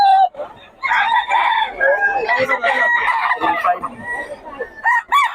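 A Gilmore sweater gamecock crows in a loud, drawn-out call, with voices talking over and around it.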